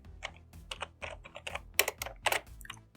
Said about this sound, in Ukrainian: Вводимо велику літеру У і використовуємо автозавершення Enter.